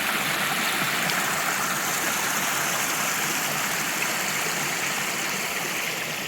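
Steady, loud rushing of a swollen stream at Prompton State Park, a continuous broadband roar with no pauses or voices.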